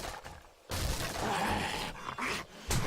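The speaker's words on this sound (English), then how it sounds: "hello, magically appearing dog." A dog in the survival video game 7 Days to Die, giving short yips and whimpering growls at close range over steady game ambience, in a few bursts spread across the moment.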